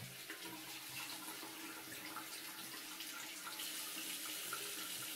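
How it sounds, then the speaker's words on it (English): Water runs steadily from a tap to rinse a razor and face, a soft continuous splashing stream with faint irregular drips and gurgles, no voices. "step aside your razor and rinse the face."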